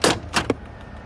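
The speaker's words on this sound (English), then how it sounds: "Got your parking brake, pull release." Parking brake in a 2004 Dodge Grand Caravan being pulled and released: two or three short mechanical clunks and clicks in quick succession, close and distinct, inside a quiet cabin.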